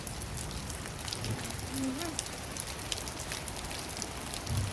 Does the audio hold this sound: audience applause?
no